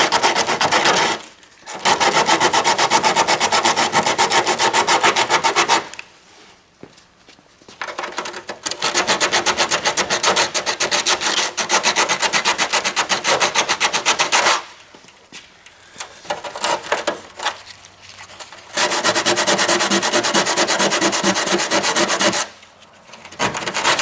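Coating is sanded off a cracked fiberglass car bumper with a power sander, loud continuous buzzing rasp in long runs broken by short pauses, close by and without talk.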